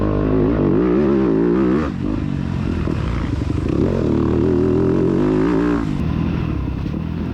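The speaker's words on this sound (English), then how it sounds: "The engine and exhaust note on this bike is really cool to me too. It's got a deep throaty tone." A motocross bike racing in a cross-country event, its deep, throaty engine and exhaust note revving loudly up and down close by, with shifting pitch as it accelerates and backs off.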